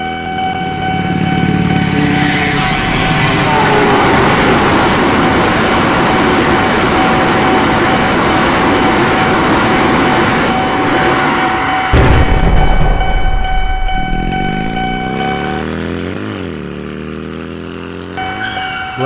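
A train passing a closed railway level crossing, a loud, continuous roar building over many seconds with steady mechanical rumble, a sharp burst near the end and a horn-like tone sweeping as it fades.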